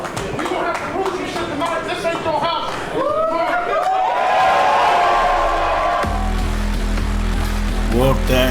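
Capacity crowd packed into historic Washington Hall in Seattle for a Defy wrestling show, cheering, clapping and chuckling loudly throughout, with voices shouting over the steady roar.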